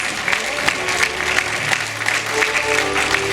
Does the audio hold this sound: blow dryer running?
no